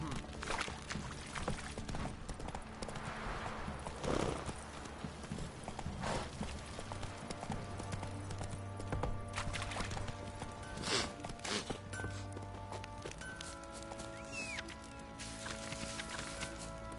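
Roach, a horse in The Witcher 3: Wild Hunt, clip-clops steadily along under game music and ambience, the hoofbeats mid-distance and moderately loud, with a brief voice near the start.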